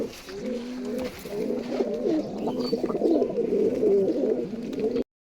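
A pair of native domestic pigeons, one male and one female, coo steadily and close by in a continuous run of low, throaty, rolling calls with no pauses.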